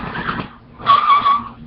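Plastic parts of a Q-Rex Megazord toy scrape against each other in two short, close rasping bursts separated by a brief pause.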